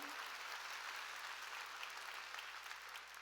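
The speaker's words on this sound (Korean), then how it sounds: "박수로 하나님께 영광" A church congregation claps steadily in praise to God during a Sunday worship service, a dense, continuous wash of applause filling the hall from start to finish.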